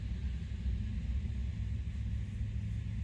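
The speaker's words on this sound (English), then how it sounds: "Like a trash truck drove by." A garbage truck passes on a street in Sarasota, Florida, giving a steady, heavy low rumble that holds fairly constant throughout, with no talking.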